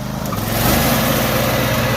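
A Cub Cadet Super LT 1554 lawn tractor engine runs loud and steady close by as it starts to mow, a constant droning rumble with no talking.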